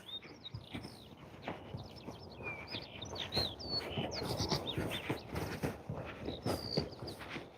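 Small birds chirp and tweet repeatedly nearby on an outdoor walk, quick high calls scattered over soft footsteps and rustling, fairly faint overall.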